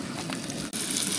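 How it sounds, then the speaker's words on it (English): Brook trout frying in butter in a pan, a loud, dense, continuous sizzle up close, with a brief dip in the middle and no voices. "all the fish are cooking up right now"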